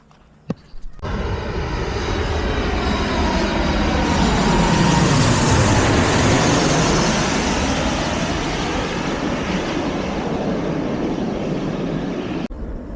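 Airplane landing at an airport, its engine roar swelling to a loud overhead peak and then slowly fading, a sustained jet rumble and whine that fills nearly the whole stretch.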